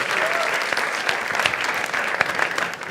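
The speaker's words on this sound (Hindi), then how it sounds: "एक बार जोरदार ताली for Mithilesh once more" Loud audience applause for a contestant on a comedy talent show, a dense burst of clapping from a studio crowd sustained for a few seconds with sharp individual claps standing out.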